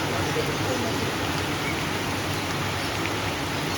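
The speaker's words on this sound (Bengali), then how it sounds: "গাছের পাতার উপর বৃষ্টি পড়ছে" Steady rain patters on leaves, a dense even hiss with no pauses, close and fairly loud throughout.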